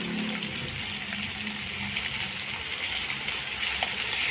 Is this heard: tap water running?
yes